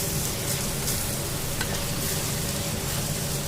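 Onions, green chillies and cucumber frying in a pan for a dosakaya mulakaya curry, a steady loud hissing sizzle that holds unchanged throughout, close and with no voices.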